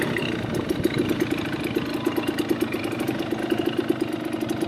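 A dirt bike engine idles close by at a mountain ATV park, a steady rumbling with regular rhythmic pulses throughout and no talking.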